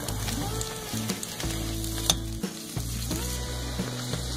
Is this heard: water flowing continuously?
no